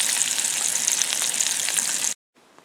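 Grouse fries in bacon fat over an outdoor campfire with a loud, dense, crackling sizzle, close up and continuous, that cuts off abruptly near the end.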